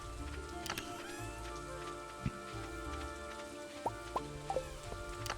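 Soft, steady rain in the Stardew Valley farming game makes a faint patter, with a few brief ticks and drips standing out above the hiss.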